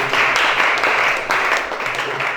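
A church congregation claps and applauds in a continuous, loud burst of dense hand clapping that carries from start to finish.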